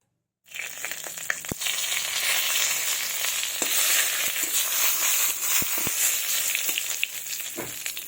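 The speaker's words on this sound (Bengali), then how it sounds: "এর মধ্যে কালো জিরে আর তেজপাতা ফোড়ন দেব।" Black cumin seeds and bay leaf hit hot mustard oil in a kadai, bursting into a loud, sudden sizzle that crackles and spits continuously with scattered sharp pops, no voices.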